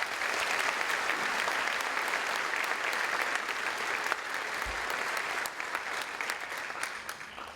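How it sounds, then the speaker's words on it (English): Sustained audience applause at a high school 9/11 ceremony, honoring students and teachers; dense steady clapping from a large crowd fills the whole stretch at even loudness. "can we just give them a round of applause?"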